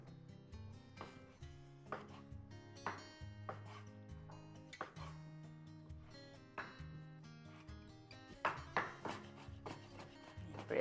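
Repeated knife strokes chopping food on a cutting board while preparing a sausage filling for stuffed oven-baked potatoes, a steady run of sharp near taps with some louder hits toward the end, no talk.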